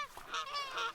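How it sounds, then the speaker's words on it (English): Geese honk near a shoreline in the Fishing Planet game, a short run of three or four nasal calls, moderately distant and alone. "I may have to shoot those geese"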